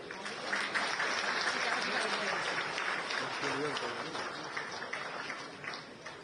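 A crowd claps at a World Para Athletics event in Delhi, with steady, moderately faint applause that runs throughout and slowly tapers toward the end, mixed with some crowd murmur.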